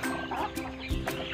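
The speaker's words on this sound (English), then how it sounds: "We have a chicken." A pet chicken clucks steadily close by, a continuous run of soft throaty clucks against a busy outdoor background, with no talking.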